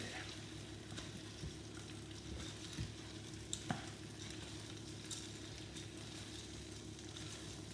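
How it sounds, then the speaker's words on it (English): Rice is toasted with onions and spices in a pot for Zanzibar pilau, giving a steady soft sizzle with occasional scrapes and taps of a spoon, close and low in level. "For now, we want to toast a little bit this rice together with all the ingredients that are there."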